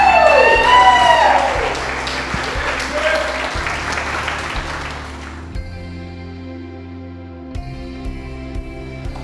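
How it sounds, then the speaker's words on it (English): Wedding guests clap for the couple, a dense round of applause with a few high voices that thins out after about five seconds as steady background music takes over. "Applause, please."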